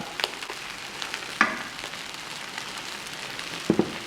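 Chicken kothu parotta with egg frying on a street-food griddle, a soft steady sizzle broken by a few sharp metallic clanks of stirring, close but fairly quiet.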